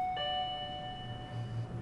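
A single electronic doorbell chime in a Korean TV drama rings clearly, its tone sustaining and slowly fading over a low background hum.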